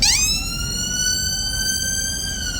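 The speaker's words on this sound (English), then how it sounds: "excuse the siren." A loud emergency siren wails steadily nearby in Denmark, its tone swooping up at the start and then holding a sustained high pitch.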